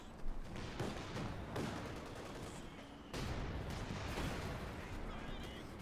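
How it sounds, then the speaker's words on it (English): Rifle grenades and light machine gun fire in a Company of Heroes 2 battle: dense, continuous gunfire with sharp bursts and thumping blasts, steady and fairly loud, with a voice talking over it. "We got a section up behind the heavy fire from the rifle grenades and the light machine guns"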